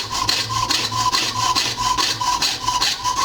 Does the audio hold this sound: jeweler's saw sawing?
yes